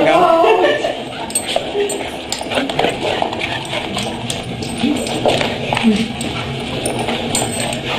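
Puppies romp together at a puppy class, with scrabbling paws and scattered yips and whimpers over a busy indoor background, a voice talking faintly at times.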